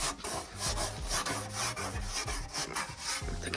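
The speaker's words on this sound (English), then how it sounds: "You can clean the glass with the ash." A cloth smeared with wood ash rubs over glass in steady, rapid strokes, making a continuous gritty scrubbing close up, with no voices.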